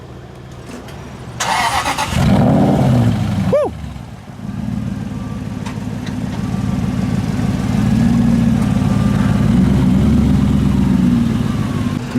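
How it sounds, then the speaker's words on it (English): A Mercedes C63 AMG engine starts from outside with a loud cranking burst and a sharp revving flare, then settles into a deep, steady idle that swells slightly louder toward the end; someone gives a brief excited shout near the start. "Let's get a start up of it so you can hear it from the outside."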